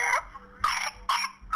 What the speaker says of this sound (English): The pertussis bacteria produce toxins that irritate and inflame the airway. This causes the severe, repeated cough that lasts for months.